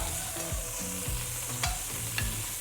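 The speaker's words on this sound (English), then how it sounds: "I just sear 2 main sides of it to get it going." Meat for chimichangas sears in a hot pan, a dense close sizzle running continuously with a low hum and a couple of faint clinks over the short stretch.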